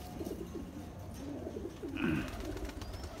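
Nagpuri Gire Baaz pigeons coo nearby in a soft, continuous, throaty warble, with layered calls overlapping and a slightly louder coo rising near the middle.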